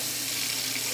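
Hot water runs steadily from a kitchen tap into a sink, a continuous close hiss and splash without pauses, with no talking over it.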